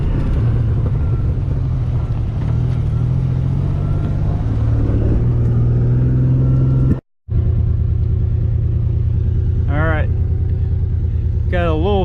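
A Ford Bronco cruising in fourth gear on an off-road test drive, a steady low engine drone and road rumble running throughout, with a person talking over it and a brief dropout partway through.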